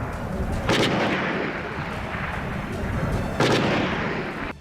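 Gunfire from fighting in Yemen's Rahaba district comes as two heavy, booming bursts over a constant rough roar of battlefield noise, loud and close throughout.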